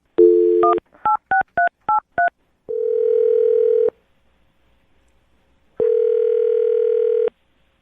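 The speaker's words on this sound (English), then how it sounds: "I'll dial the phone number and get him on the phone" Touch-tone dialing: a string of quick beeping keypad tones, then two long steady ringback tones separated by silence.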